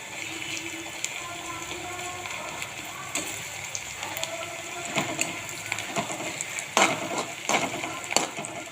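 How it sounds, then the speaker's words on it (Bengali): Onions fry in a pan of hot oil, a soft continuous sizzle and crackle broken by scattered clicks and scrapes of stirring, fairly close and moderately quiet. "পেঁয়াজটাকে আগে ভেজে নিই ভালো করে।"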